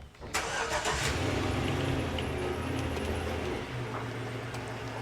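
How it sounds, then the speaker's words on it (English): A truck engine cranks and catches, a sharp start followed by a steady, close, rumbling idle that drops slightly in pitch near the end, with no talking. "She hesitated starting the truck"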